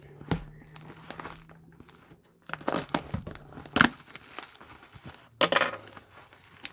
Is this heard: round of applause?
no